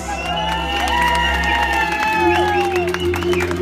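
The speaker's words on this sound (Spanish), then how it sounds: "Pero que venga el aplauso, señores." Party crowd at a quinceañera cheering and clapping loudly over steady dance music, with whoops and shouts throughout; voices are mixed into the noise.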